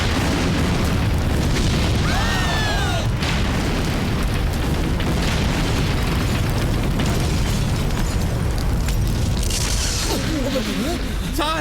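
A bomb explodes at a hotel, producing a sustained, loud booming roar with rumbling and debris noise, and raised voices and shouting layered over it throughout.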